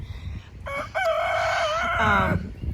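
A rooster crows once, close and loud, a single long cock-a-doodle-doo lasting under two seconds against a quiet background.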